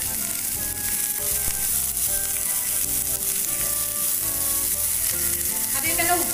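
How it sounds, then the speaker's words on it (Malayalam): Sliced onions hiss loudly and steadily in hot oil in a pan for egg perattu, a close, dense, continuous frying sound with faint crackles and an occasional stir. "ഇനി അതിലേക്ക് നമ്മൾ സവോള ഇട്ട് കൊടുക്കുകയാണ്. സവോള ഫുള്ളായിട്ട് ഇട്ട് കൊടുത്തു. ഇനി അതൊന്ന് വഴറ്റിയെടുക്കാം."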